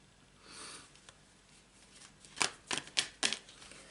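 Tarot cards being shuffled by hand, a soft riffle early on followed by four or five crisp, close card snaps and flicks in quick succession, with no talking.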